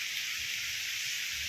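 Rain falling steadily during a Pangasius fishing outing, a constant bright hiss of drops with no breaks across the whole stretch, low rumbles underneath.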